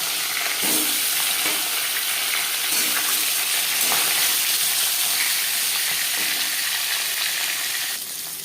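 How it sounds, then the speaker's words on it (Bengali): Katla fish pieces rubbed with salt and turmeric fry in four spoons of hot refined oil, making a loud, dense sizzle with scattered crackles and spatters, close and uninterrupted. "চার চামচ রিফাইন্ড অয়েল গরম করে নিয়েছি দিয়ে দেবো লবণ হলুদ দিয়ে রাখা মাছের মধ্যে আর দিয়ে দেবো মাছ"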